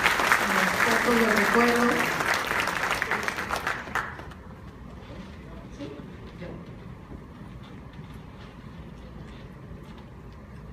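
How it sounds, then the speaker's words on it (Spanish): Audience applause at a public-sector project management awards ceremony, loud clapping for about four seconds before fading into quiet room tone with faint voices. "les pido nuevamente un fuerte aplauso para ellos, por favor"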